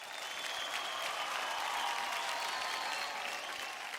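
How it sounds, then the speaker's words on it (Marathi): Studio audience at a televised Marathi dance competition claps steadily for a dancer, a dense, even wash of applause holding across the whole stretch with no voices on top. "जोरदार टाळ्या होऊन जाऊ द्यात माझ्यासाठी"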